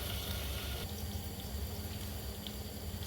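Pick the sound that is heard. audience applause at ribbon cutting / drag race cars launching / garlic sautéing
garlic sautéing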